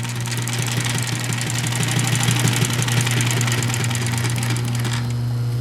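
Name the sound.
Pfaff 145-H4 walking foot sewing machine running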